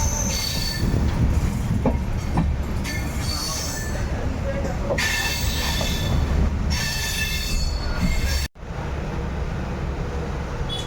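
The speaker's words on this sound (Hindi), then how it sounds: "लगता है अपना ट्रेन अराइव कर रही है नक्सलवाड़ी" The Sikkim Mahananda Express rolls slowly through Naxalbari station, loud and close, with wheels squealing, rumbling carriages and a sudden brief drop in the noise near the end, while a voice talks over it.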